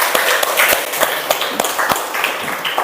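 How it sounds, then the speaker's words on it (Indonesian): A classroom of students claps for a classmate, a short burst of scattered, uneven hand claps close by with no voices over it. "tepuk tangan buat Raka"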